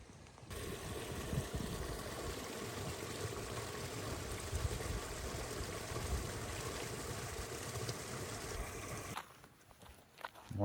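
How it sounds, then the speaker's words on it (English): Fast-moving creek water along the Pine Creek trail in Tioga State Forest rushes in a steady broadband roar, close and constant, then drops away sharply near the end. "It's fast moving water."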